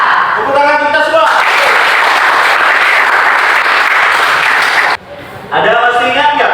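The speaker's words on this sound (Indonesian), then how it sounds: "Tepuk tangan kita semua." A school assembly of students claps in a loud burst that holds for about four seconds, then cuts off abruptly, with a voice speaking before and after the clapping.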